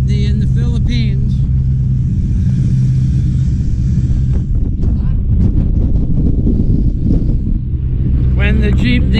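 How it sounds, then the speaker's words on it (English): Riding aboard a jeepney in the Philippines, with a loud constant engine rumble and heavy wind buffeting the microphone, and a voice talking briefly at the start and end. "this is how you ride a jeepney in the Philippines"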